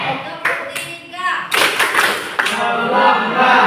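Schoolchildren in a class clap in unison on their teacher's count, several sharp clustered claps in quick succession, close and loud, mixed with children's voices and a spoken call.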